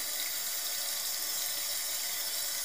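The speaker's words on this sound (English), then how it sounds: "You can plug the vent, and that will force water directly out of the exit port." Water flushing out of the exit port of a CLI 42 ink cartridge with its vent plugged, a steady hissing stream running without a break and with no talk.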